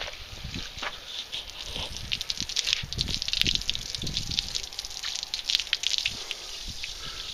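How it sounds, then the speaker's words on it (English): A garden hose sprays water onto a Neverwet-coated ATV radiator, a continuous close hissing splatter with irregular spattering bursts as the stream moves across the metal. "hit it with the hose"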